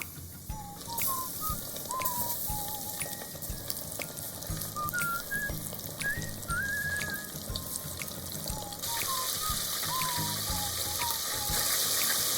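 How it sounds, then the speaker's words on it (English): Japanese karaage chicken deep fries in oil heated to 160 °C, giving a steady, close hiss and crackle of sizzling oil throughout, with faint chirping whistles in the background. "Next, deep fry the karaage."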